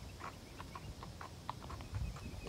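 A horse for sale walks on a hard surface, its hooves clip-clopping in a steady, fairly quiet rhythm of about a dozen distinct strikes, with faint outdoor background and no talk.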